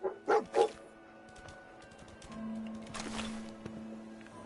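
Dogmeat, the dog companion in Fallout 4, gives three quick barks close by at the start, and quieter game ambience follows.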